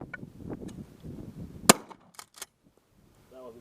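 A single loud shotgun shot at skeet cracks out at close range, cutting through muffled outdoor talk and followed by a few fainter pops.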